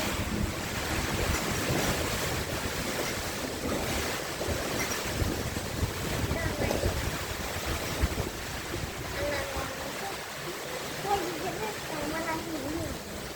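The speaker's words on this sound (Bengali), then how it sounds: "আপনাদেরকে বলে শেষ করা যাবে না, এত প্রচণ্ড বাতাস হচ্ছে" Strong wind and rain from Cyclone Remal roar steadily and loudly throughout, with gusts battering the microphone, while someone talks over the storm noise.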